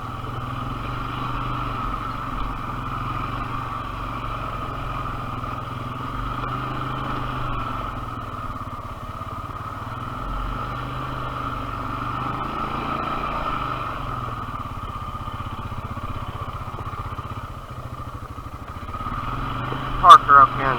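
A Honda Foreman 450 ATV on a trail ride, its engine running at a steady, even drone throughout, with a sudden sharp clatter near the end.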